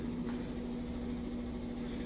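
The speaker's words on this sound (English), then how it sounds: "I've got the dryer going." Steady low mechanical hum with a constant tonal drone and broadband whir, a tumble dryer running continuously in the background.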